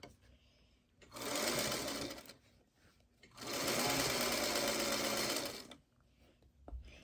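A sewing machine stitches a quilt block seam for a Honey Blossom quilt block in two steady, close runs of fast needle chatter, each lasting about two seconds, separated by a short quiet pause.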